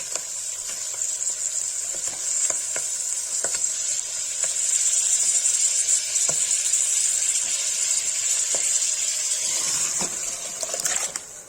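Paneer goes into fried saag in a hot pan for Kashmiri haak saag paneer, setting off a loud, steady, hissing sizzle with scattered clicks of stirring and no talking.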